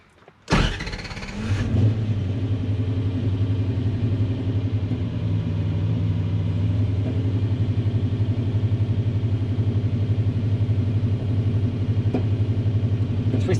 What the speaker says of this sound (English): It actually starts and runs.